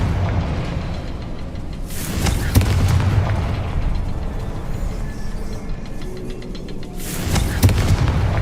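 Two magical Confringo blasts in Hogwarts Legacy, each a sharp fiery boom with a crackling burst, sounding several seconds apart over a steady game ambience.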